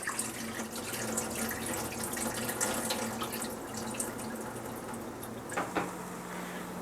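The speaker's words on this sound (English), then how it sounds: "After 2 hours, I pour out the water." Water being poured off soaked, salted rice for Persian saffron rice in a kitchen, a soft steady splashing stream running continuously at low level, with a brief clatter near the end.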